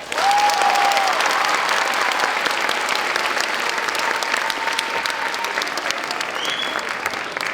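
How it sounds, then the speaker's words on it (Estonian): Sustained, dense applause from an audience in a school hall at a primary school playback show, for the evening's first performers; steady and loud for the whole stretch with no speech over it. "teeme veel ühe korraliku aplausi meie esimestele esinejatele."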